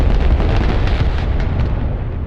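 A Bradley armored vehicle blows up in the Broken Arrow video game, a loud, dense explosion roar that sustains throughout with no talking.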